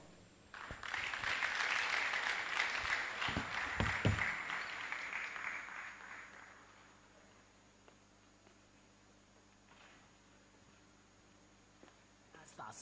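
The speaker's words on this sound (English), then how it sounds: "please a round of applause one more time for Dr. Ahmed Tambuwal" A conference audience at the Startup Abuja EduTech Conference 2024 breaks into applause, building quickly to a full, fairly loud round that holds for several seconds before thinning out and fading to scattered claps and room murmur.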